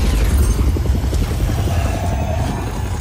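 Heavy, continuous rumbling booms and rapid low thuds of wing cannons firing in Just Cause 4, loud and dense throughout.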